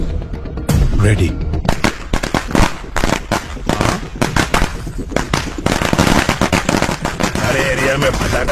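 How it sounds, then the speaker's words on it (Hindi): Rapid bursts of firecrackers crackling and popping in dense, irregular volleys, loud and close, with voices partly under the noise. "अरे एरिया में पटाखा कौन फोड़ रहे रे?"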